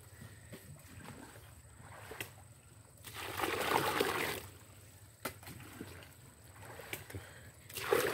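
Water scooped and poured over sago pulp during hand processing in Werinama, bursts of splashing and trickling that come and go over a quiet outdoor background, fairly faint with no talk.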